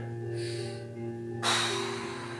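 During a shoulder stretch, a person draws in one deep, audible breath, then lets out a short, louder rush of air. It is close and quiet, with no talking.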